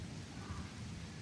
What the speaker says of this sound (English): finally we got some rain here.